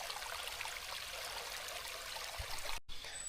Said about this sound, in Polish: strumyk, który płynie praktycznie cały czas, jak schodzę